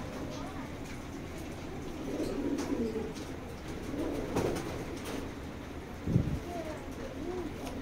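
Racer pigeons coo softly in a loft, low rounded calls rising now and then over a murmur of background noise and faint movement.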